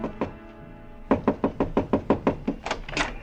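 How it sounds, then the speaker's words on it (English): Knuckles rapping on a hotel room door in an old radio drama, two knocks, a brief pause, then a fast run of about a dozen firm raps, close and clear with no voices. "I stopped in front of room 300 and knocked."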